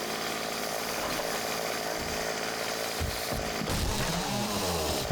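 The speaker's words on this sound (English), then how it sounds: "Just bursting into the house with a chainsaw." A chainsaw revving in the survival game 7 Days to Die, a steady harsh buzzing drone that holds loud and continuous throughout, with rougher surging near the end.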